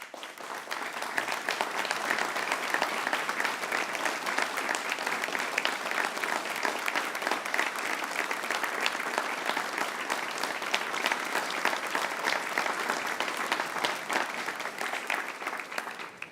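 A roomful of people at a grand opening of a welcome and education center gives members and volunteers a long, steady round of applause, a dense, even clapping that holds at a constant level throughout.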